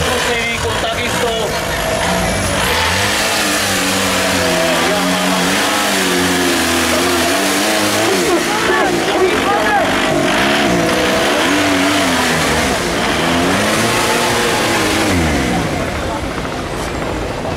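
At a tractor competition, a tractor fitted with a TDI engine revs hard and repeatedly, with rising and falling engine pitch, loud and continuous, while people talk over it.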